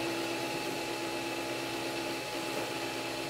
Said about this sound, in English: I can feel the filament being pulled in by the printer head for an automatic feed.